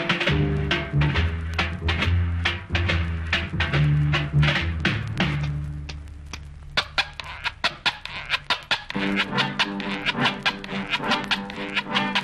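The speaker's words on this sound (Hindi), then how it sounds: "ये जो कंघी की आवाज है ये दरअसल मेटल के बने लैटिन अमेरिकन स्क्रैपर से तैयार की गई है।" A metal Latin American scraper gives a comb-like rasping rhythm in a Hindi film song from Padosan, heard as quick repeated scrapes and clicks within loud music, sparser in the middle before the full band returns.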